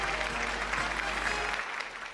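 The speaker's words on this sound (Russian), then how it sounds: "Аплодисменты нашему талантливому участнику" Audience applause for a vocal performer placed second at a talent contest, a dense, even clapping that stays steady and then tapers slightly near the end.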